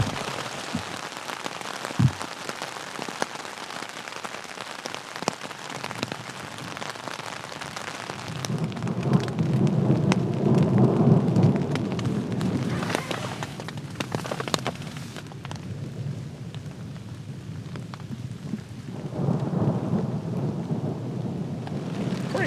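Rain patters steadily on a tent at a campsite on the Potawatomi Trail while thunder rumbles and rolls through, with heavier deep swells partway through and again near the end.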